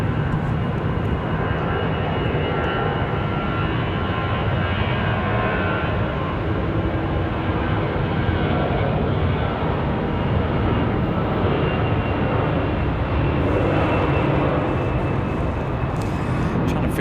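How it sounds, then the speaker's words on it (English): A FedEx Boeing 767 Heavy jet arriving at Raleigh Durham airport gives off a loud, steady engine roar with broad rumbling noise that holds for the whole stretch. "FedEx 785 from Memphis, Tennessee. Going to be our next arrival."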